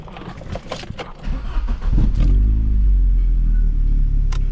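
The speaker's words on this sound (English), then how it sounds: "it does run on all 4 cylinders in the correct order" A 1992 Vauxhall Cavalier CD engine cranks with clattering, then catches and settles into a loud, steady close idle running on all four cylinders.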